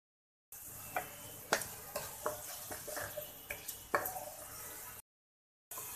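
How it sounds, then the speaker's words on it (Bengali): Onions stirred in hot oil, browning for a meat and cabbage curry: about nine sharp spoon scrapes against the pan at an uneven rhythm over a steady close sizzle, then a brief silence. "এবার আমি পেঁয়াজকে ভালো করে নাড়িয়ে দিতেছি আমি পেঁয়াজকে ব্রাউন করব"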